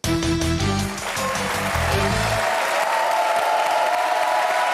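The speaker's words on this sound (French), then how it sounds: "On applaudit l'embobineur" Crowd applause rises under a fading musical sting on a French football talk show, then carries on alone as a loud, steady, dense clatter of many hands.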